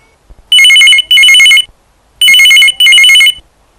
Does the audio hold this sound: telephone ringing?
yes